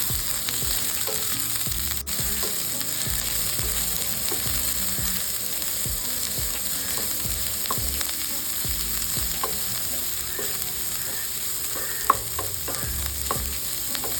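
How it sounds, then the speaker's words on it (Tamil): Chopped large onion sautéing and sizzling in a pan over a medium flame for a Tamil malai chicken gravy, a steady close frying hiss with occasional stirring clicks throughout, no talking. "ஸோ இந்த ஸ்டேஜ்லேயே நம்ம வெங்காயத்தை சேர்த்து வதக்கிடலாம்."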